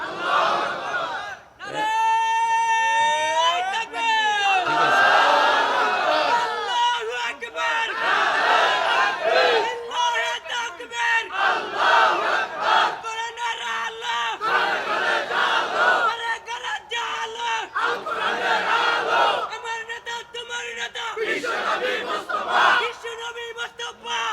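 A large crowd roars takbir in unison in answer to a preacher at an Islamic gathering, loud massed shouting in repeated bursts that rise and fall, with the preacher's voice leading at the start.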